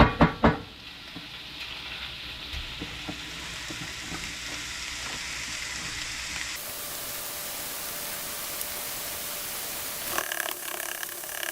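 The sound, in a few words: food cooking in a pan for biscuits and gravy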